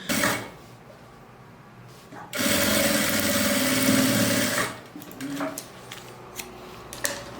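Sewing machine running a finishing seam on a fabric lining for a fabric Bible or book cover, a steady loud whirring burst of about two seconds, with quieter handling noises and a brief spoken voice around it.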